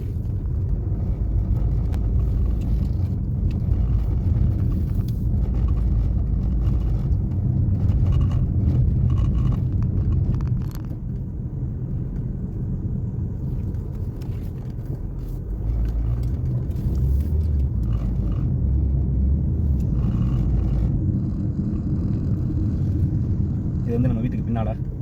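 Car traffic on a main road behind a house in Malaysia, a continuous low rumble of passing vehicles, loud and close, easing briefly in the middle before building again, with no talking.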